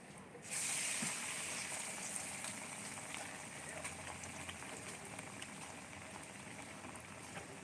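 Mung bean fritters (tod man) deep-frying in hot oil make a dense, steady bubbling crackle that starts abruptly and continues evenly at moderate loudness.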